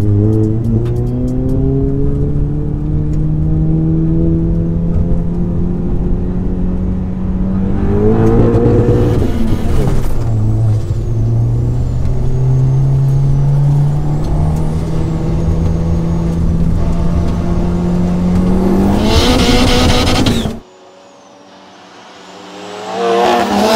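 A 530HP VW Caddy van and a 500HP Golf GTI race side by side in a drag race, loud, close engine roars rising through repeated gear changes, then cutting off abruptly into quiet wind noise near the end.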